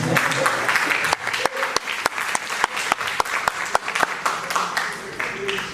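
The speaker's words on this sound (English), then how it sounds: "So give me a round of applause, please." A TEDx salon audience applauds a newly introduced speaker: a continuous bed of clapping with sharp individual claps standing out near the front, and some voices mixed in underneath.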